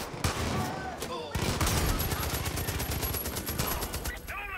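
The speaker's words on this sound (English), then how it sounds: "getting shot from somewhere" Gunfire in the video game Far Cry 5, dense rapid bursts of automatic shots rattling almost continuously, loud and close, with a voice faintly mixed in.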